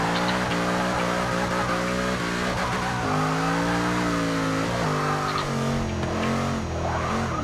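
A tuned van in Forza Motorsport 6 drifts with loud, sustained tire squeal over a droning, shifting engine note, continuous and close for several seconds, with no talking.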